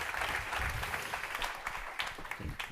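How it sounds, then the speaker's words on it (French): An audience claps for contestants at the SIM CUP SFAR simulation competition final, a soft, continuous wash of applause heard from some distance. "Bon, on peut les applaudir."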